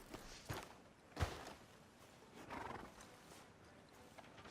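A horse in Red Dead Redemption 2 whinnies and snorts amid the clop of hooves, with a sharp loud burst in the middle and softer neighing later.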